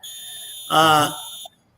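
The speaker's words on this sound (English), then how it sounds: "excuse the beep, by the way, that's my garage door." Electronic beep from a home garage door opener, a steady tone that swells briefly louder before cutting off, heard alone in a quiet room.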